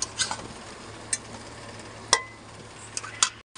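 Chicken kosha sautéing in hot oil in a pan, with a soft steady sizzle under sparse metallic clinks and scrapes as a spoon stirs the meat; no voices.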